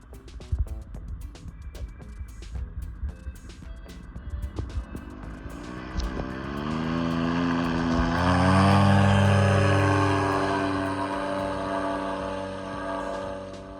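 A paramotor's engine and propeller drone in flight, starting faint and broken by gusts and knocks, then swelling into a loud, steady buzzing hum with rising tone that slowly eases off.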